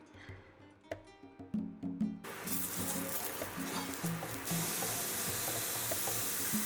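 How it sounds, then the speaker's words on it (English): Onions frying in butter in a hot skillet: after a couple of seconds of quieter clinks and stirring, a loud, steady sizzle bursts in and continues close up without pause. "So fry that until it's a little bit brown."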